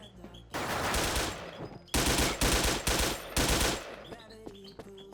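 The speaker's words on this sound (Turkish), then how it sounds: "Tek mermi. Dur rapid fire yapma." Bursts of rapid automatic gunfire from the Wolfteam online shooter, loud and close, in two long volleys with short gaps, then a few sharper single shots and game sound effects.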